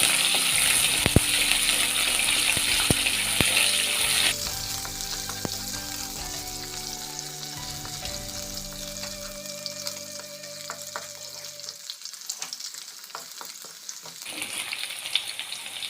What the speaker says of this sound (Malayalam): പത്ത് വെളുത്തുള്ളി നീളത്തിലരിഞ്ഞത് ഇതൊന്ന് മിക്സ് ചെയ്ത് കൊടുക്കാം